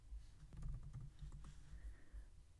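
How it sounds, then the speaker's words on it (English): Quiet typing on a computer keyboard while entering text into a spreadsheet, a faint, close cluster of soft key clicks in quick irregular succession. "So I'm just going to type that in over here in this spreadsheet."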